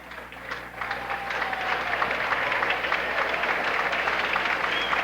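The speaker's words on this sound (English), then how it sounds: "Crowd has been on their feet the whole time, applauding" A basketball crowd at a 1979 high school parents night stands applauding the seniors, a steady wash of distant clapping in a large gym with faint voices beneath.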